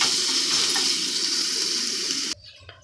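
Crushed garlic and colocasia fry in a pan with a steady, close sizzle that stops abruptly near the end, followed by faint clinks, with no talking.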